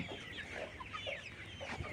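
A 72-day-old layer hen clucks softly in a rooftop or courtyard backyard flock, several short quiet clucks close by with no one speaking.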